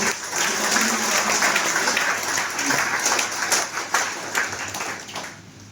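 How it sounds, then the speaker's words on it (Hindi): Sustained applause from an audience at a direct-selling business motivational seminar, dense steady clapping for several seconds that thins slightly toward the end. "मैं फिर से चाहूंगा सिस्टम के लिए जोरदार तालियां होनी चाहिए"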